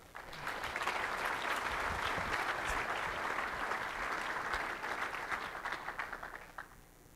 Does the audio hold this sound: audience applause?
yes